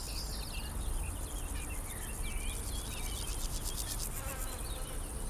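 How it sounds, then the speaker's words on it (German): Honeybees flying in spring in Bavaria, a steady dense buzzing close by under a high insect hum, with faint bird calls now and then and no voices. "Die Bienen verlassen nun immer mehr ihre Stöcke auf der Suche nach den ersten Blüten."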